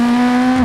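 Hard braking of a rally car in the WRC 8 racing game: a steady, loud engine drone holds a constant pitch, then drops off abruptly at the end, with no talking.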